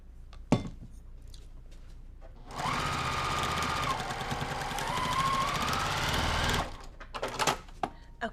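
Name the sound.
sewing machine stitching trimmed quilt blocks together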